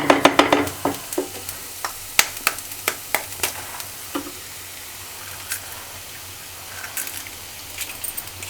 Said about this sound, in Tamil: முட்டை நல்லா வதங்குற வரைக்கும்